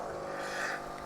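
An espresso machine runs a blank shot with a loud, steady motor hum and pump whine, continuous and close without pause.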